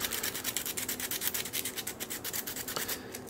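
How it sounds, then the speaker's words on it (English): A metal lockpick is rubbed around its edges on 100 grit sandpaper, giving quick, evenly repeated scratchy strokes that sound close and fairly quiet, with no talking. "I'm going to use 100 grit and just take the pick, go around all the edges on it"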